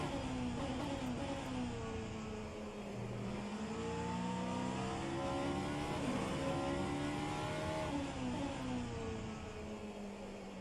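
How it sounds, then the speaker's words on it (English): Vanwall hypercar engine in a racing video game at Watkins Glen, held at steady revs with gentle rises and falls in pitch, a continuous loud drone throughout with no talking. "I'm taking it seriously easy with the engine."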